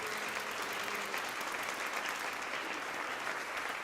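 Steady applause from a seminar audience at a business talk, dense continuous clapping filling the room for several seconds at moderate level with no speech over it.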